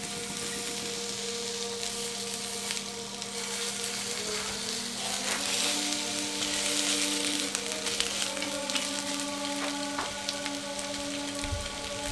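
Seekh kebabs sizzle steadily as they fry and are turned, a continuous moderate crackling hiss with occasional light scrapes and taps, no talking.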